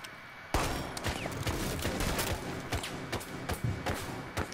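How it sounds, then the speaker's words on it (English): Bursts of video-game gunfire rattle in rapid fusillades with heavy thumps mixed in. The shooting is loud and dense and keeps going almost without pause. "Can you stop shooting, bro?"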